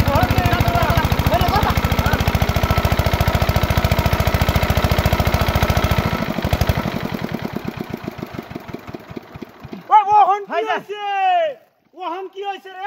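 A water lifting pump engine runs with a steady rapid chugging knock, then slows and sputters out as it fails to keep going, after which voices talk loudly nearby.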